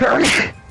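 A single sharp sneeze bursts out loud and close, followed at once by voices talking nearby.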